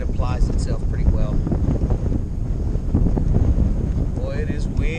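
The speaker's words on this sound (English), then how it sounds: "Boy, it is windy." Strong, gusty wind roars across the microphone on a cold day out on the water while bass fishing, a constant low rumble with faint voices underneath.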